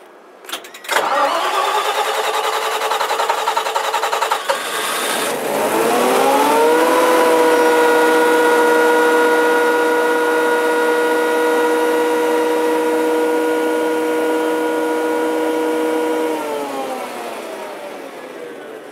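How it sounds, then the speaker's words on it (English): A backup power generator engine at a retirement residence cranks, catches and settles into a loud, steady running drone with a rising then level tone, holding for many seconds before easing slightly toward the end. "We'll let it run for just a couple minutes here just to show the engine running."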